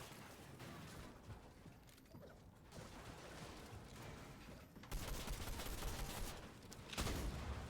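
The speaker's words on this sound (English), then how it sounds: "This dude shooting him with a pistol." Quiet video-game gunfire, with bursts of shots and mechanical clicks over a low steady background, growing louder near the end.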